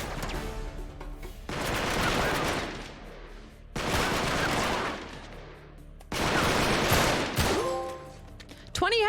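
Bursts of gunfire from the video game Uncharted 3: Drake's Deception come in three long, dense volleys of sustained shooting, loud and close, separated by brief pauses.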